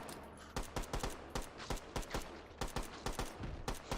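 Rapid video-game gunfire rings out as a dense, steady stream of sharp shots at a fast rhythm, close and continuous for several seconds.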